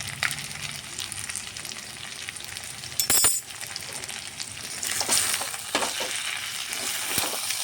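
Chicken frying in oil with garam masala powder, a steady close sizzle with occasional stirring scrapes and a sharp clink of the utensil.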